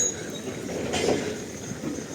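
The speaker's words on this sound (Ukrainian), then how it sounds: "Локомотив поїхав вперед." A passenger locomotive pulls forward at the Truskavets station after the Kyiv–Truskavets train arrives, a low continuous rumble with faint rail noise and a brief swelling in the middle, and no talking.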